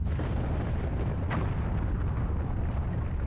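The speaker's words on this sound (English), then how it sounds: "There's a big explosion." A big explosion at the castle in Twilight Princess: a dense, sustained low rumble with a brief sharper burst midway, loud and continuous throughout.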